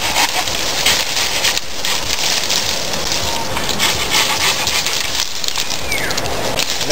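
Steady rasping strokes of a pruning saw cutting through a forked wood branch, continuous and close, with rustling outdoor noise around it.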